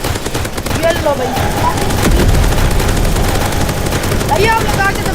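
Bomb blasts and gunfire-like bursts in the Roblox video game, a dense continuous barrage with loud booms, heard under game music and sound effects.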